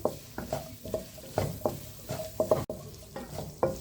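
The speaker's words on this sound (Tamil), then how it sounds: "இந்த தூள் வாசனை போடுற அளவுக்கு கொஞ்சம் வதக்கி எடுத்துக்கலாம்" Spice powder sautéing in a pan for potato samosa filling sizzles under repeated scraping stirs, a steady rhythm of close, moderate strokes.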